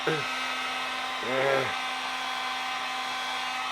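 Heat gun warming a glued wood joint, a steady faint whirring hum with a constant tonal whine throughout, as someone briefly speaks over it.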